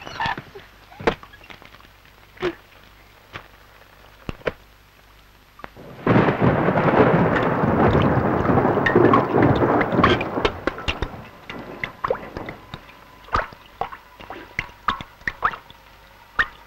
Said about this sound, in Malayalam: മഴ തോരുന്ന ലക്ഷണമേ ഇല്ല